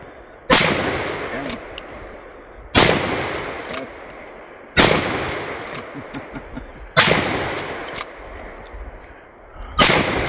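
Five loud, sharp gunshots ring out at roughly two-second intervals, each a close crack followed by a fading echoing tail, with faint clatter between them.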